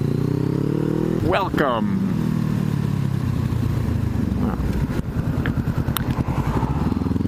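A motorcycle engine drones steadily up close while riding and turning around, rising briefly in pitch as it revs, with a person speaking over the engine noise.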